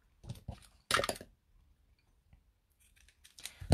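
Scissors snipping ribbon for a handmade Stampin' Up card, a few quick close cuts in separate bursts with quiet pauses between them.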